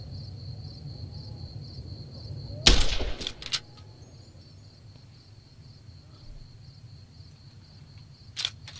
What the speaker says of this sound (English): Apparently they all heard that gunshot.